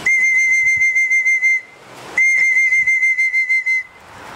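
Sharp, steady human whistling calls out to racing pigeons arriving during a sponsored race at a loft, two long sustained notes broken by a short pause, loud and close with no talk.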